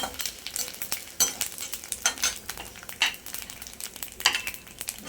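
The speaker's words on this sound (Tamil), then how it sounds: "எண்ணெய் ஊற்றிட்டு மிளகு, சீரகம், வெந்தயம் போட்டு வதக்குவோம்" Whole pepper, cumin and fenugreek seeds frying in a little oil in a pan for a garlic-pepper kulambu, with a steady soft sizzle broken by sharp scraping stirs and occasional utensil clinks, close and without talk.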